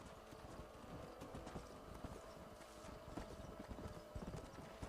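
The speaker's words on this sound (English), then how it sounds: "there's always one horse which runs off to the one side, doesn't it?" Galloping horse hooves in the Western video game Red Dead Redemption, a fast, continuous clip-clop rhythm close by. A faint whinny may surface under the hoofbeats.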